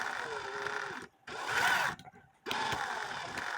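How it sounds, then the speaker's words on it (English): A drill spins a clock wheel on a shaft in short bursts, three quiet whirring runs separated by brief pauses, close and alone. "Squeezing the wheel, turning on the drill slightly,"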